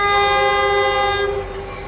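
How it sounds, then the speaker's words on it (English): An eastbound push-pull passenger train sounds its horn while passing on the Lackawanna Cut-Off, a loud, sustained multi-tone blast that cuts off near the end, leaving the rumble of the passing train. "Now this eastbound train"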